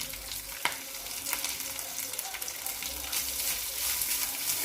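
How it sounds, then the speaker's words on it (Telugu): Grated coconut fries in a tempering of oil with chillies and curry leaves for coconut rice, giving a steady close sizzle with a few sharp crackles and stirring clicks. "ఇప్పుడు దీంట్లో కొబ్బరి వేసేస్తున్నాను."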